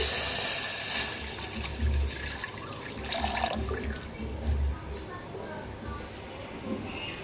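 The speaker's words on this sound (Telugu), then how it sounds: "స్టవ్ ఆన్ చేసి అదే దబల్లో పాలు అయితే యాడ్ చేస్తామండి" Milk pours into a pan on the stove while making bellapannam, a wet, splashing pour that swells and fades in uneven surges, heard under a voice.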